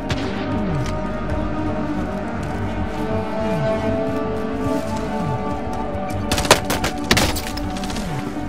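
Call of Duty: Modern Warfare gameplay with a low ambient drone and soft thuds, then a short cluster of sharp, loud gunshot cracks near the end.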